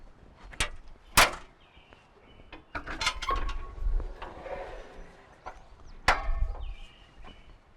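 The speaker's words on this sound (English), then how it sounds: "So let's open the rear of this machine and let's look at some of the powertrain components." The rear door of a Toyota Takeuchi TL12V2 compact track loader is opened with a handful of sharp clunks and latch clicks, close and fairly loud, with quieter mechanical rattling between them and no talking.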